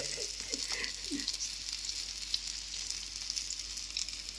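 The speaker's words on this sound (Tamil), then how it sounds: "பாருங்க பஜ்ஜி அப்படியே சூடாக ரெடி ஆகிட்டுருக்கு." Chicken bajji pieces sizzle steadily in hot oil in a small pan, a dense continuous crackle held at an even level, with a few soft low knocks near the start and no talk.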